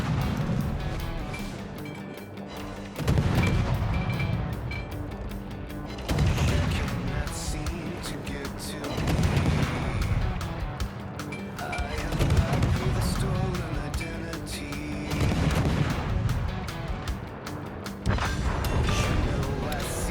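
Naval guns on the Japanese destroyer Akizuki fire in the World of Warships video game, with loud salvos booming roughly every three seconds in a steady rhythm while people talk over the action.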